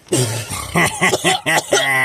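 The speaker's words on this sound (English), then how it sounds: "What are you coughing for?" Several harsh coughs and throat-clearing bursts break up a voice, close and loud, mixed in with short spoken phrases.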